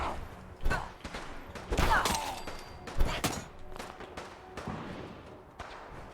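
Gunfire rings out inside a tall building in Fallout 4: scattered sharp shots and short rapid bursts, fairly quiet and irregular, with thuds mixed among them.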